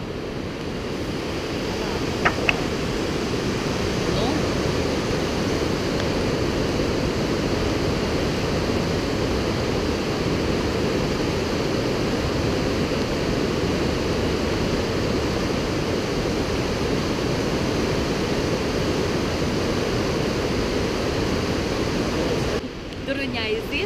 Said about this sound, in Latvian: Parādi, kā upe iet.